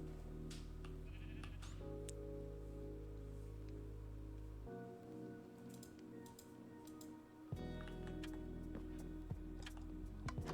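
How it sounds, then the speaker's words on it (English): Sheep bleating in the Minecraft video game, repeated calls over a steady game soundtrack with no talk, holding clear and fairly loud for about ten seconds. "I heard a sheep."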